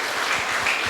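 A church congregation applauds in a dense, continuous wash of clapping that fills the whole short moment.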